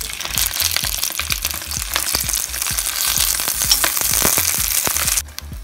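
Bratwursts frying in a Dutch oven just after turning, a loud close sizzle with dense popping crackles and rhythmic low thumps, ending abruptly near the close.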